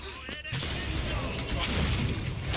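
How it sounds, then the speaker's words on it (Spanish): Rockets and heavy explosions hit the player in the shooter game Bioshock Infinite, a dense sustained roar of blasts and booming fire that fills the whole stretch, loud and continuous with a voice talking over it. "Me está tirando cohetes aquel, ¿no?"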